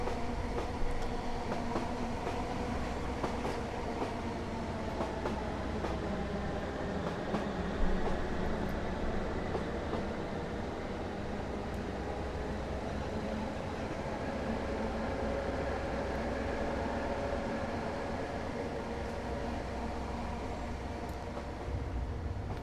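Class 455/8 electric multiple unit in Train Simulator 2015 pulling away from a station on the Crystal Palace to London Bridge route, a steady rolling rumble with faint clickety-clack and motor whine building gently.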